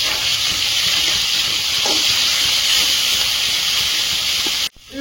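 Dried red chillies, cinnamon and a ground ginger-garlic-green-chilli paste sizzle in hot oil while cooking a prawn curry, a loud, steady hiss with no talk, ending in an abrupt cut.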